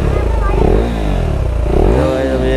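A motorcycle engine revs loud and close on a road, rising and falling in repeated throttle blips with a rough clattery tone over a steady idle, with voices partly beneath it.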